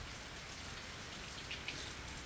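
Rain falling during a super typhoon outside a small hut, a steady dense hiss of drops with a few sharper close splashes, alone and fairly soft.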